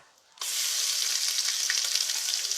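Ginger garlic paste drops into hot oil in a pan for biryani, bursting into a loud, steady, close sizzle after a brief quiet moment and frying on without pause.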